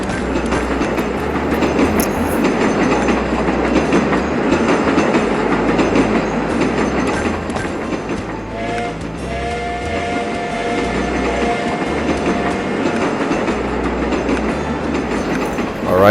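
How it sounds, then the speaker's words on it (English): Trains rumbling past in the TrainStation 2 video game, a continuous clickety-clack and rolling drone with a horn sounding briefly midway, no talk over it. "Alright, the noisy trains are gone"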